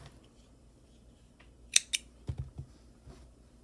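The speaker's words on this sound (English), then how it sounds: "Cut your yarn" Scissors snip through crochet yarn twice in quick succession, close and crisp, followed by a few soft handling taps in an otherwise quiet room.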